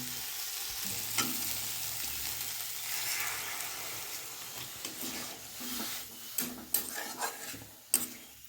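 A small cut potato sautés in hot oil in a pan, a steady loud sizzle and crackle close by, broken by sharp scraping and clattering stirs of a spatula, with no one talking.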